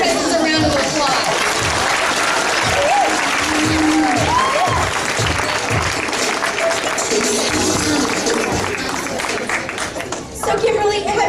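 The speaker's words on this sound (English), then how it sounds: "Let's give our contestants a round of applause." Lively audience applause for contestants at a small-town Mr. Irresistible pageant, dense clapping mixed with cheers and chatter, with a few whoops rising above the crowd before it thins near the end.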